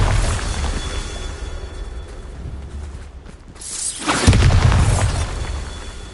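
A Bombarda blasting spell goes off in Hogwarts Legacy: a building mechanical whir and clatter gives way to a sudden loud booming blast that rumbles on for a couple of seconds.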